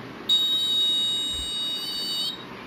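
An alarm buzzer on a transmission line fault detection project board sounds one steady, piercing electronic tone for about two seconds, close and clear, then cuts off.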